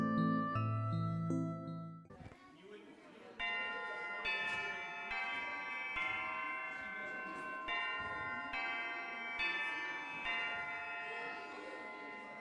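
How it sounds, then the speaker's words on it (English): A school bell rings in the video game Prom Dreams, sounding as a series of bright, sustained metallic tones that repeat in pulses after a short melodic chime, clear and prominent throughout. "That's a bell."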